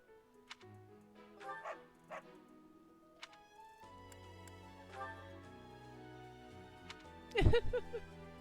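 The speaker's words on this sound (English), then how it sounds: "There's a dog over here." A dog in the video game Fire Emblem: Three Houses gives several short barks and yips spaced through the clip, one louder bark near the end, over soft game music and sound effects.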